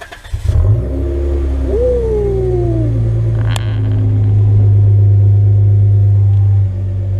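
A Toyota Camry engine cranks and catches with a sharp start, then settles into a loud, close, deep idle with a brief rising rev and a long sustained rumble before the revs drop near the end.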